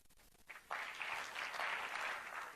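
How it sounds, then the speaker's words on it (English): Applause bursts from the audience at a G20 parliamentary speakers' summit, starting with a few scattered claps before swelling into full, sustained clapping across the hall. "I like that applause"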